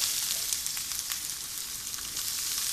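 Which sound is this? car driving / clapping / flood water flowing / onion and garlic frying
onion and garlic frying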